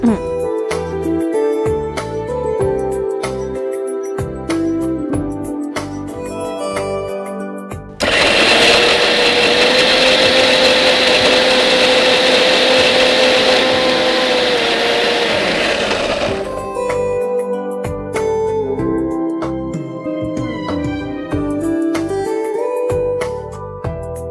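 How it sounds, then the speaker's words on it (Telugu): A mixer grinder whirs loudly and steadily for several seconds in one continuous blending run, grinding wheat semolina, between quieter kitchen sounds. "ఇదే కొంచెం మిక్సీ పట్టేసుకోవాలి."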